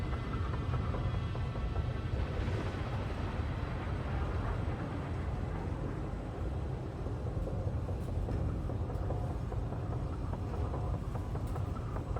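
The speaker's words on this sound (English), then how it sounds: "Alright, so we gotta stop the train on this one." A train rumbles in the Warhammer 40K Darktide video game, a loud, constant low roar with rattling metallic overtones that holds steady throughout, no voices.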